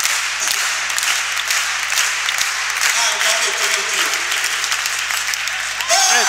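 Loud, dense crowd applause for the mascot at an All Star basketball game, sustained throughout over steady arena noise with a voice briefly heard near the end.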